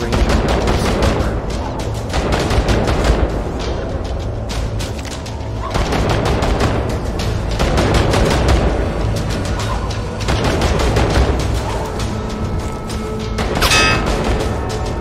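Dense gunfire and grenade blasts in the shooter game Insomnia: The Ark, with continuous rapid shots and booms packed together throughout, loud and sustained with no pauses.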